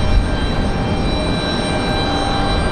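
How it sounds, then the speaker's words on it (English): Republic Airways Embraer E175LR jet airliner at Raleigh-Durham airport on a windy day, a continuous broadband engine rush with steady whine, close and loud throughout. "Got Republic Airways 4398 from Miami."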